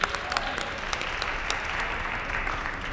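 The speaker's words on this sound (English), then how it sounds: "So great applause for you tonight." Audience clapping fills a university hall after a singing performance, a steady wash of applause from many hands, moderately loud and even throughout, with no cheering voices standing out.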